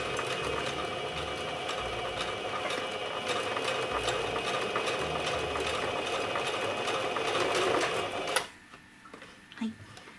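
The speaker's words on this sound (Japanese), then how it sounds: "そしてそれぞれ1センチ内側を縫っていきます。" A sewing machine runs a steady, close whir as it stitches fabric 1 cm in from the edge for a paper towel case, then abruptly stops near the end.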